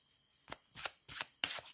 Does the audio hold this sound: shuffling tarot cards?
yes